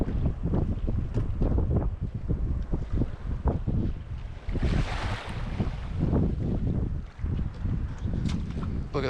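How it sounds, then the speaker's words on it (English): Ocean waves roll onto the coast at Lunan Bay, Scotland, a steady loud wash of surf under heavy wind buffeting the microphone, with one swelling surge midway. "These waves are rolling in"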